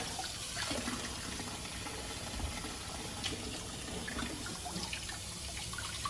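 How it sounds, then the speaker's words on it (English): Running water rinsing dirt off pumpkins, a steady splashing, hissing flow from a tap or hose, even and close for the whole stretch with no talking. "I rinse the dirt off of these too before putting them in here."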